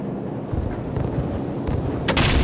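AC-130H Spectre gunship cannon fire in Call of Duty: heavy booming rounds thud repeatedly through a dense, rumbling low end, then a sharper, louder blast near the end, with no voices.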